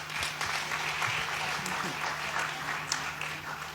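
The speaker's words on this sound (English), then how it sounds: "let's give everyone a round of applause" Audience applause at a pitch competition finale for young African agricultural entrepreneurs, a steady mid-level clapping from a crowd with some speech faintly underneath.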